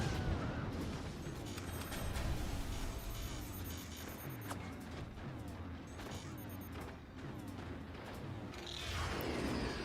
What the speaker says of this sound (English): Team Germany going up with the howitzers.